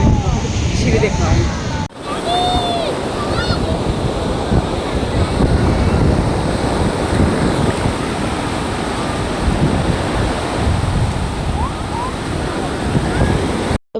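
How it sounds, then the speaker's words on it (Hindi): Ocean surf rolling onto a sea beach, loud and steady with continuous wave wash and wind noise on the microphone, no talk, only a brief dip partway through. "सी बीच देखा"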